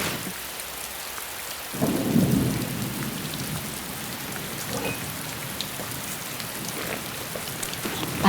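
Heavy rain pours down in a steady dense hiss, with a deep rumble of thunder swelling near the start and then fading under the constant downpour.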